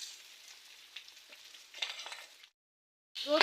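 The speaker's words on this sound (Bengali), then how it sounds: "এই তো চাউলগুলো ভাজা হয়ে গিয়েছে" Rice frying in a pan for an iftar dish, with ground cinnamon, cardamom, cumin and ginger paste, gives a steady close sizzle that stops briefly, then bursts back loud and crackling.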